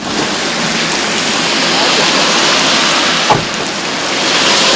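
Heavy rain pours steadily in Taitung, a dense, even hiss filling the scene throughout, with one brief low thump partway through.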